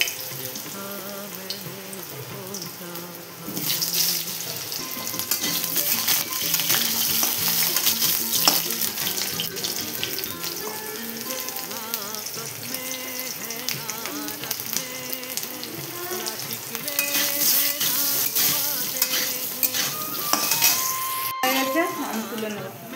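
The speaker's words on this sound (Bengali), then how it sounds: "এবারে আলুগুলো ভেজে নেব" Potatoes fry in hot oil in a wok as lunch is cooked, a loud continuous sizzle with stirring and scraping throughout and a brief sharp knock near the end.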